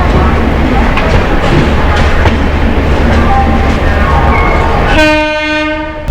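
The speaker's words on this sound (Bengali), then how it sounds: "আর আমাদের ট্রেন একদম রাইট টাইমে হাওড়া স্টেশন থেকে ছেড়ে দিল তার গন্তব্য রাঁচির উদ্দেশ্যে" Howrah–Ranchi Shatabdi Express 12019 pulling out of Howrah station, a loud continuous rolling rumble of the carriages close by, then a long, sustained horn blast near the end.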